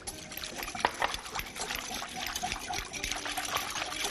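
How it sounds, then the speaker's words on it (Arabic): Boiling water pours steadily into a cup of jelly gelatin, a continuous close trickling splash with small bubbly gurgles throughout. "خلينا نحط كوب اللي هو مغلي وراح أحرك لأنه الجلي هو عبارة عن جيلاتين"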